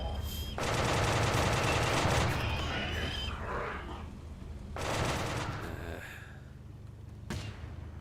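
Bursts of gunfire from colonists and mortar-defended positions in the game Rimworld, a dense sustained fusillade in the first seconds, then a second burst around the middle and a sharp single crack near the end, loud and close.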